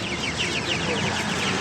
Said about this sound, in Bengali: এগুলো হচ্ছে একেবারে টাইগার মুরগির বাচ্চা।